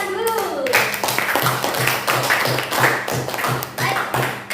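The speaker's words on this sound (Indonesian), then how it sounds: "tepuk tangan dulu" A school group gives rhythmic, evenly paced clapping in unison, each clap a crisp separate hit repeating steadily, with a voice heard briefly at the start.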